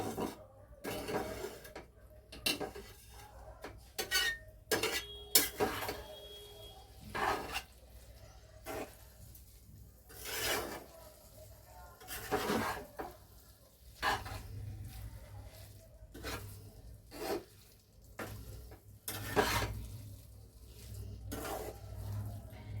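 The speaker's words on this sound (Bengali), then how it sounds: "এটা ভালো করে মিশিয়ে নিয়েছি।" Soya chunk keema being stirred and mixed in a pan, with repeated scraping and clinking of a spoon against the metal in irregular bursts, close and moderately loud, with no talking.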